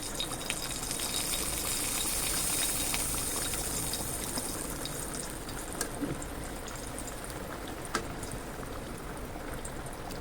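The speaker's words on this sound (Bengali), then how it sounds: "এর সাথে আরেকটু সামান্য গরম জল" Hot water goes into a pan of boal fish curry, and the liquid bubbles and hisses in a steady, dense wash that continues throughout with a few faint clicks.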